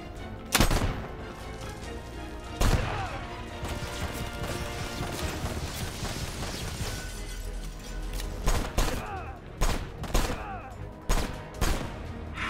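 Gunfire in the video game Left Alive: sharp loud shots, some isolated and some in quick bursts with crashing impacts, close and dominant throughout the clip.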